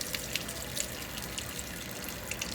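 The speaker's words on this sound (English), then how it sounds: "Then go ahead and turn your cold water off." Cold water runs steadily from a kitchen tap while food is rinsed, a constant close hiss with small splashes and drips, heard alone.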